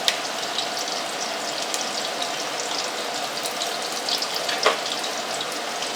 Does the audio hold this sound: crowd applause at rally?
no